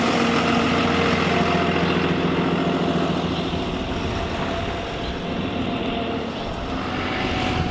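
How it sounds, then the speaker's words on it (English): Heavy, steady engine drone and road roar from a turning bus, loud and close as if heard from inside, sustained without a break and with no talk. "Caution, bus is turning."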